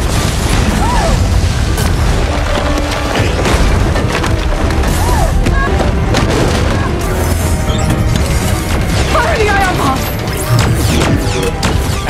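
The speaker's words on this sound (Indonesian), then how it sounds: "Atlas pun refleks meminta Smith untuk mengaktifkan bom ion" An ion bomb explodes in the 2024 science fiction film Atlas, a loud, sustained roar of booming blasts, crashing and splintering debris filling the whole stretch without pause.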